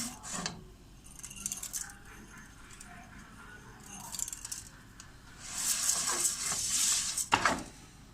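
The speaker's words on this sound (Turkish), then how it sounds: "Şariyeyi şimdi kavrulmaya başlıyorum." Vermicelli roasts in hot oil in a pot, heard as intermittent scraping and stirring with faint sizzling, growing busier and louder toward the end with a few sharp clinks.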